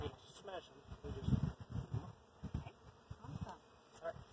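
Honeybees buzz close by at a hive in a steady drone, with soft voices and rustling in the background.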